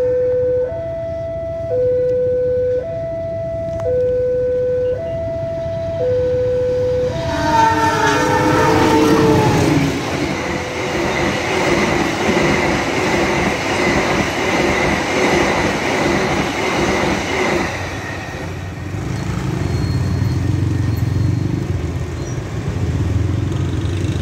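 A TS 15 passenger train, a new mixed executive and economy rake on trial, sounds a two-tone horn in repeated alternating blasts, then thunders past close by with loud rumbling and clattering wheels that fade to a steady roll.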